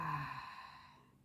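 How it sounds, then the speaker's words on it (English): A single long, deep exhale during a guided breathing meditation, starting with a breathy rush that fades smoothly to quiet over about a second, close and soft, with no talking. "And breathing out."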